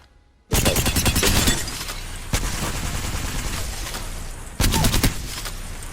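Rapid automatic gunfire in a shooter video game erupts in loud, dense bursts, one long continuous stream of shots with sharp renewed volleys, close and unbroken by reloading.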